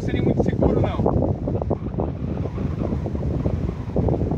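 Strong wind gusting across an exposed hilltop lookout, a steady loud rumble and buffeting on the microphone throughout, with speech partly audible beneath it.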